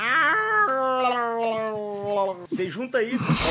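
A voice imitating a cat, drawing out a long wavering meow-like whine before breaking into quick speech at the end.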